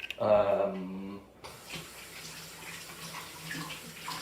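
Running tap water splashes steadily over celery stalks being washed at a sink, a continuous faint wash of water after a brief opening murmur of a voice.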